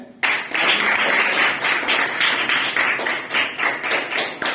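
Schoolchildren clap together to welcome their headmaster at a school function, a dense, close burst of many small hands that begins abruptly and continues steadily with slight surges.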